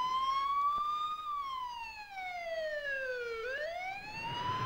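A police siren in the Spider-Man 2 video game wails clearly and alone, its pitch gliding up and down in a slow rise-and-fall sweep.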